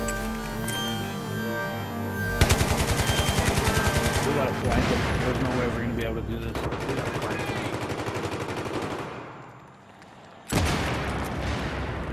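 Bolt-action M24B sniper rifle fire in Battlefield 3 on the Métro map, mixed into a dense, continuous wash of loud gunfire and battle noise that dips briefly before a sharp burst returns.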